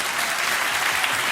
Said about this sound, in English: And he deserves a round of applause.